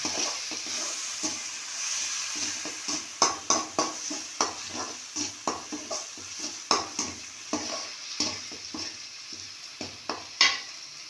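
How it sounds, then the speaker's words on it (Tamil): Ground masala paste sizzles steadily in a hot pan while a spoon scrapes and stirs it in repeated sharp strokes, close and fairly loud, with no talking. "இப்போ இந்த அரைச்சி வச்ச மசாலா போடுறோம் இதை ஒரு ரெண்டு நிமிஷம்"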